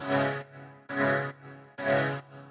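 Main honky tonk piano track playing three evenly spaced, loud chord stabs, each ringing briefly before dropping to a quieter sustain, close and dry with no talking.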